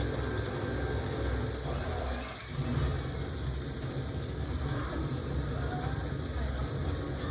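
Portuguese sausage fries in a pan for vodka pasta, giving a steady, dense sizzle and crackle with one brief dip, close and continuous, no voices.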